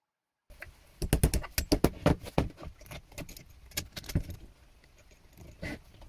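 A homemade gaming wheel mounted on a cut-down sleeve anchor rattles loosely on its bolt, making a rapid burst of close, loud clattering knocks that thin out into scattered lighter taps.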